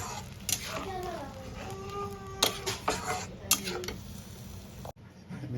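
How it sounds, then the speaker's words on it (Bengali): A lid lands on a pot of simmering prawns with a single sharp clank near the end, after a stretch of someone talking and light kitchen clatter. "একটা ঢাকনা দিয়ে ঢেকে দেব"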